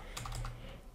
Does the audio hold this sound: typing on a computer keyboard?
yes